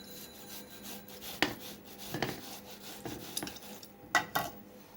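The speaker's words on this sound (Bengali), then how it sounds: "এখন আমি এগুলোকে গ্রেটারের সাহায্যে গ্রেট করে নিচ্ছি।" Watermelon slices rubbed against a grater, giving soft wet rasping strokes in uneven bursts with a few sharper scrapes of fruit on metal, close and moderately quiet with no voices.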